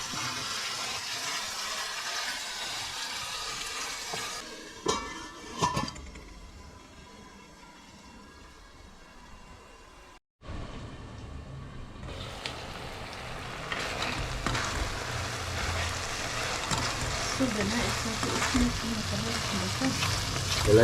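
A tomato mixture sizzles and fries in a pan while it is stirred and water is added, giving a bubbling hiss that drops briefly and then comes back to a steady simmering crackle.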